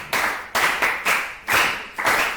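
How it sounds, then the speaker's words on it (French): Classroom of students clapping for a classmate in a loose, uneven rhythm of about five bursts, fairly close and moderately loud, with no talk over it. "Applaudissez pour lui."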